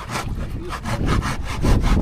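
A hand saw rasps through wood in quick, regular back-and-forth strokes, close and fairly loud, with no talking.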